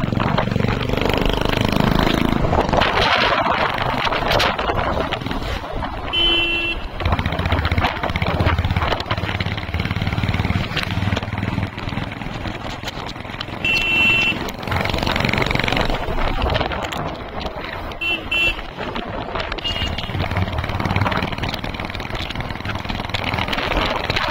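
A Royal Enfield Thunderbird 350X motorcycle running on a road during a mileage test, its engine a continuous rumble mixed with wind noise and occasional faint voices.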